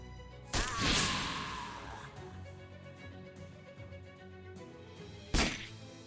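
A spork attack hit in Shadows Over Loathing, a sharp whooshing thwack near the start and a second crisp impact near the end, with a faint ringing tail between them and no talk.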